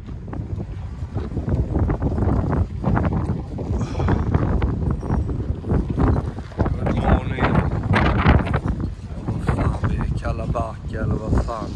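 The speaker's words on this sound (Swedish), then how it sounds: "Blåser så in i helvete." Strong wind buffeting a microphone on a rest day during a motorcycle rally trip from Sweden to Dakar on a KTM 450, roaring loudly and continuously in gusts.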